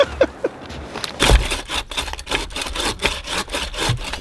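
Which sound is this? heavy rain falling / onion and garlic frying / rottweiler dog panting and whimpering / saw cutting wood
saw cutting wood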